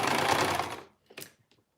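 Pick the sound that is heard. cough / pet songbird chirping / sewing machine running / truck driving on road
sewing machine running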